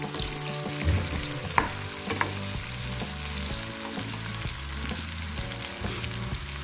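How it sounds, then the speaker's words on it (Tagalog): Onions frying in a pan, a steady close sizzle with a few sharp knocks of stirring over low hum, no talk. "Luluto na yung sibuyas."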